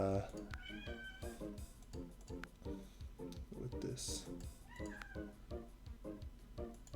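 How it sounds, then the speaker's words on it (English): A domestic cat meows repeatedly in a run of short, insistent cries, close by and mixed with a man's speech. "Sorry, I'm getting sidetracked by my cat."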